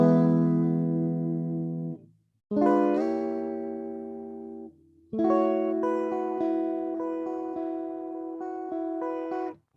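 Three gently strummed guitar chords, a phrase with a pull-off, ring out one after another with short gaps between them, the last held longest and fading.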